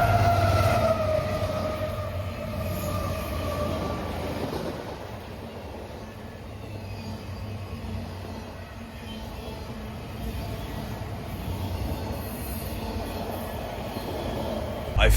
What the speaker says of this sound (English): another eastbound Manifest. I mean, this time it was CSX